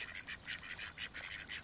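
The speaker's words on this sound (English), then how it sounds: "wild ducks. There's one hanging out right over there, and then there's a group of 4 or 5 over there kind of swimming away" Wild ducks on water in springtime Elgin, Texas give a steady run of bright, repeated quacking calls in quick succession, moderately close, with no voices.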